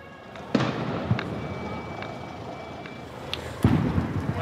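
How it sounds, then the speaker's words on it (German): Firecrackers bang at a May Day street demonstration, two sharp loud blasts about three seconds apart standing out over a constant crowd rumble, with a few fainter pops between. "Dann fliegen Böller."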